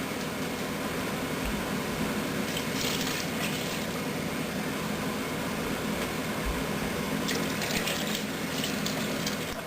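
Water and beef broth poured into a soup pot, giving a steady, faint continuous pouring wash with no talk over it.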